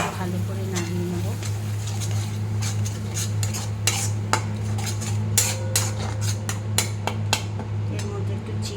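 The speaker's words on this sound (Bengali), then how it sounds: "জলটা দিয়ে মশলাটাকে একটু ভালো করে নাড়িয়ে নেবো।" A spoon stirs spice mix with water in a metal bowl in a home kitchen, scraping and clinking repeatedly against the sides over a steady low hum, with someone talking at times in between.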